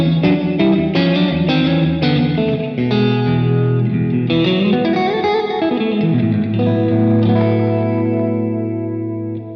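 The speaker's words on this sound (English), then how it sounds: "Now we've got a darker, moodier sounding reverb." Electric guitar played through a JHS 3 Series Hall Reverb pedal with the dampener raised, giving a dark, moody reverb; picked notes and chords ring out loud and alone, their tails swelling and slowly fading at the end.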